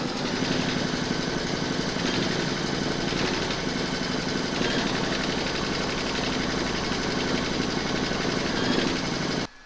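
An embroidery machine stitches a round of a Valentine's heart coaster in a hoop, a steady, loud, rapid mechanical whirring and clatter that runs unbroken for nearly ten seconds before stopping abruptly.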